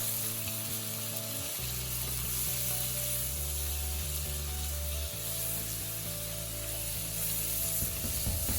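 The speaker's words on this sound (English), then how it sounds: "now we are adding our pineapples. And we'll continue sauteing this." Pineapple chunks sauté in a wok for sweet and sour chicken, a constant hissing sizzle over a low steady hum with occasional stirring scrapes.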